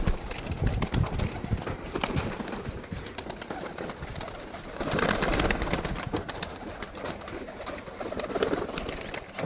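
Pigeons coo close by on a rooftop amid rustling and flapping, with noisy outdoor wind-like background throughout.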